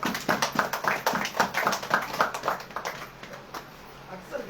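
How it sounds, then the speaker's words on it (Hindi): A church congregation claps in quick, uneven bursts, with a rapid run of claps that thins toward the end and faint background room noise. "बस आने के लिए ताली बजाओ"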